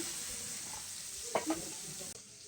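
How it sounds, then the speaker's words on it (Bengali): Fish frying in a pan in a home kitchen, a steady broad sizzle running throughout at moderate level, with a couple of brief clinks or stirring touches near the middle before the sound drops slightly at the end. "মাছ তো ভাজছে"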